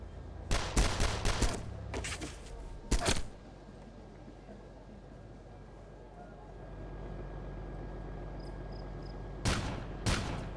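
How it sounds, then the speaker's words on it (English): Anti-aircraft gunfire in the Arma game mod Takistan Life, loud rapid bursts of shots in two clusters early on and another pair near the end, with quieter ambience between. "Why is AA taking pot shots at civilian aircraft?"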